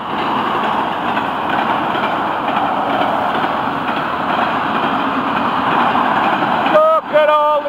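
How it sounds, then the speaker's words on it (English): FEC freight train hauling auto racks rolls past close by, a loud, continuous rumbling roar with rail clatter, ending in a short series of high squealing tones. "Oh, a lot of auto racks on this train."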